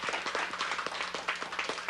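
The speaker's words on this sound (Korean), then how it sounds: "박수 한번 쳐주시죠." A small audience applauds briefly at a Korean Kouksundo qigong demonstration, a quick patter of scattered hand claps, fairly faint and distant.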